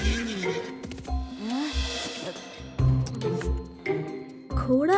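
A horse neighs repeatedly, its shrill whinnies rising and falling, mixed with short thuds and knocks, close and fairly loud in a dramatic, staged scene.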